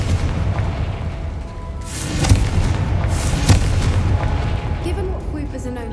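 A Confringo fire spell explodes in the video game Hogwarts Legacy. Two deep, booming blasts sound over a loud, dense rumbling game soundscape, the second one punchier.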